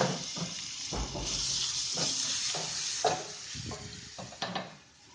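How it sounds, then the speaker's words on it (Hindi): Onions frying in a pan with garlic and ginger paste stirred in, a steady sizzle punctuated by repeated scraping strokes of a spoon, close and clear. "प्याज को हल्का सा कुक करने के बाद इसमें लहसुन और अदरक का पेस्ट डाल देना है"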